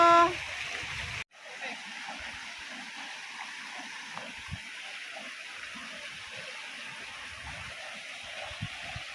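Water flowing in a rural creek in the Philippine countryside, a steady broadband rush that continues close and fairly loud after a short opening burst and a brief gap.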